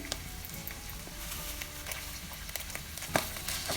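Green onion and green pepper sizzle steadily in a hot frying pan as they are stirred, with occasional utensil clinks against the pan, loudest near the end.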